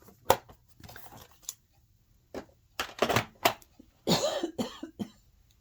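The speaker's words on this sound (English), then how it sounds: "Apologize for my coughing." Several sharp coughs in irregular bursts, close and fairly loud, separated by brief quiet gaps.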